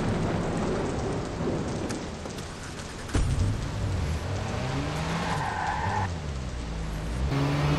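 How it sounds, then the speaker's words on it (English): Heavy rain pours steadily during a thunderstorm in the video game Watch Dogs. A sharp thunder crack lands near the middle, and faint tonal game sounds drift in the background. "And the rain just keeps coming."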